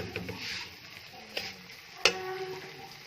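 Semolina and sugar fry together for halwa, making a soft steady sizzle at close range. A few sharp clicks of a stirring spoon cut through it, and no one speaks.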